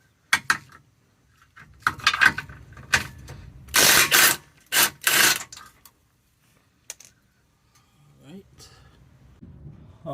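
Ratchet working loose 17 mm bolts underneath a Toyota Sienna minivan during a driver's side lower control arm job: bursts of rapid metallic clicking, with a few isolated clicks and knocks before and after, close by.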